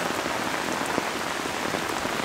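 Water splashes and patters steadily into cracks in the ground of a permaculture rain garden, a constant, close, hissing wash with no talking over it.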